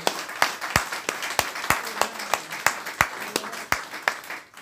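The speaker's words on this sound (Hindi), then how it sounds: "जोरदार तालियां उनके लिए" Hall audience at a birthday celebration event claps loudly for a guest called to the stage, with sharp, distinct claps in a steady, fairly slow rhythm, as if a few people close by are clapping in unison.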